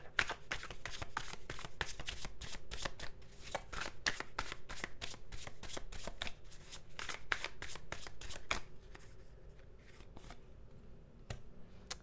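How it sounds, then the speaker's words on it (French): Tarot cards laid out one by one on a table, a long run of crisp, close card slaps and flicks in quick irregular rhythm, thinning out toward the end. "Je vais juste poser les cartes du tarot et je vous en parle."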